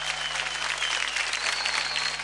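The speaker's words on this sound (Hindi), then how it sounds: "एक बार जोरदार तालियां फारा मैम के लिए" An audience claps steadily and enthusiastically, a dense wash of applause from a crowd that continues without pause.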